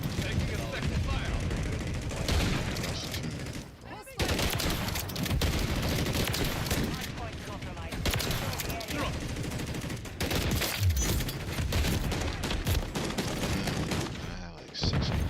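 Sustained gunfire in a Call of Duty match: continuous automatic bursts and rattling shots, loud and close, with a short break near the four-second mark and a voice speaking over the shooting.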